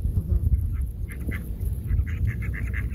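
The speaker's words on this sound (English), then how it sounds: "Goose, duck fight." Geese and ducks squabbling at close range in a national park, with rapid honks and quacks jostling over a low rumble of background noise.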